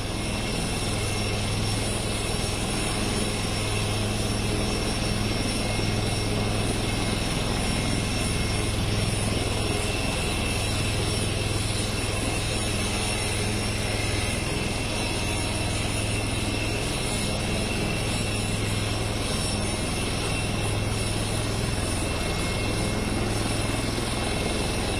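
An Indian Air Force Prachand light combat helicopter at Jodhpur makes a steady, loud whirring rotor and turbine drone that holds unbroken for about 25 seconds, with no voices over it.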